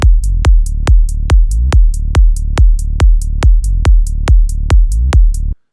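Programmed drum beat built from one-shot samples, with a steady loud kick and snare pattern punctuated by crisp hi-hat hits at a regular rhythm, looping evenly for several bars before stopping abruptly.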